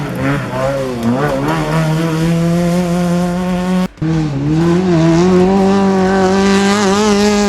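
Volkswagen Gol rally car in class A1 at the Rally de Icaño, its engine roaring loud and close with rising and falling revs as it races past, a brief cut midway.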